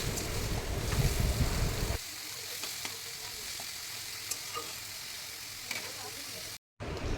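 A soft, continuous sizzle of salted onions frying in oil, punctuated by faint scraping and light clicks, with a brief dropout near the end.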